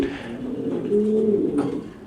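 Pigeons coo close by in a short, soft, throaty burble, one low rolling call following another with faint background hum.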